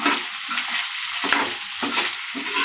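Potato pieces fry for aloo fry, a close, steady sizzle broken by repeated scraping strokes as they are stirred around the pan, with no voices.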